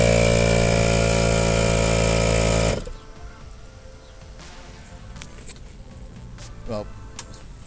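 ARB air compressor running loud and steady while inflating a flat 37-inch Nitto Mud Grappler tire, its dense mechanical drone cutting off abruptly, leaving quieter background with a few faint clicks.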